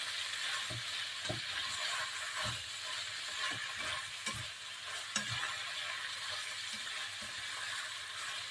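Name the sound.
stir-frying mixed seafood, shrimp and squid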